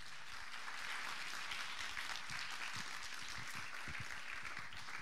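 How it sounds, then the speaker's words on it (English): A crowd at a grand finals event applauds the top 10 finalists, with sustained, dense clapping from many hands and a few scattered sharper claps, heard at a moderate distance without a break. "So can we have another round of applause, please, for our top 10 finalists here today?"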